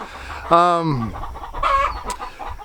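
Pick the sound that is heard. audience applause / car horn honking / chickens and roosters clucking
chickens and roosters clucking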